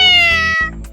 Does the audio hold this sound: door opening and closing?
no